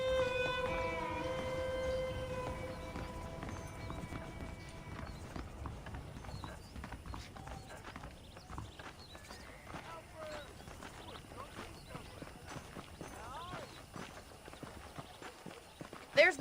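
Horses clip-clopping in the Western video game Red Dead Redemption, a steady hoof rhythm running under a voice and game music, with a brief whinny-like tone near the start.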